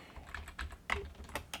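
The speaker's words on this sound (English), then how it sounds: "I just type it in QWERTY" Keys clack on a QWERTY computer keyboard in a quiet room, about seven separate close, crisp taps at an irregular typing pace.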